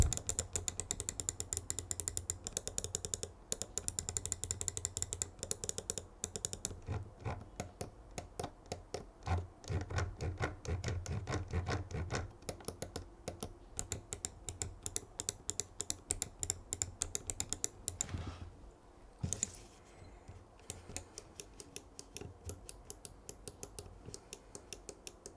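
Rapid clicking of a Finalmouse ULX gaming mouse's buttons, dense bursts of crisp, close clicks in quick succession, with a brief pause and sparser clicks near the end, no voice.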